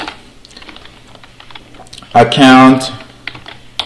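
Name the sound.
typing a PowerShell command on a computer keyboard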